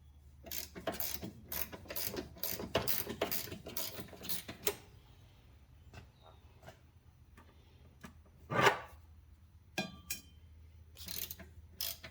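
A ratchet works loose a front sub-frame bolt on a 2007–2017 Jeep Patriot/Compass/Caliber, a rapid run of clicking strokes close by, then a pause with scattered clicks and clanks.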